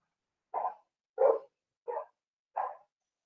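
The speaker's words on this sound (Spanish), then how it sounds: "Se escuchan en mi audio que mis perros ladran" Dogs barking at home: four separate barks spaced evenly about two-thirds of a second apart, heard at a moderate distance with silence between them.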